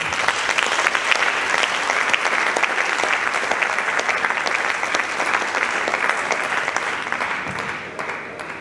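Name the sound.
audience applause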